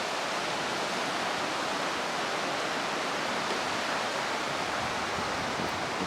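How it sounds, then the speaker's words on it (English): A steady, even roar of ocean surf at Koh Kood island fills the scene without pause, with no voices or other sounds. "that's all you got is the noise of the ocean"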